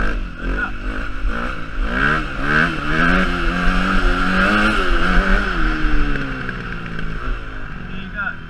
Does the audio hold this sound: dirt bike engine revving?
yes